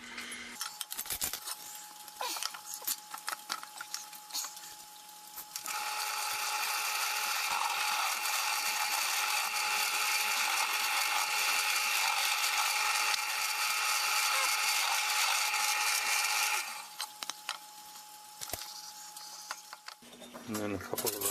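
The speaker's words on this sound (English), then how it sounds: "I'm going to drill just a couple of 15/64 holes and a few, let's see, a few 1/8 inch holes in it" A drill press boring small 15/64 and 1/8 inch holes gives a steady high whirring grind for about ten seconds, framed by clicks and handling noises before and after.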